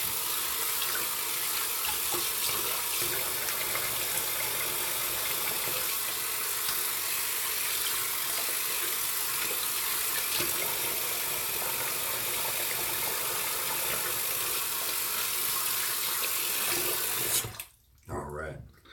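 Tap water runs steadily from a bathroom faucet while rinsing off during a shave with a transplanted brush knot, a broad continuous rush that cuts off abruptly near the end.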